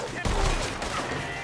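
A burst of loud video game gunfire from a sniper rifle, a sharp close crack followed by a dense rolling echo and layered shots that fill the short moment.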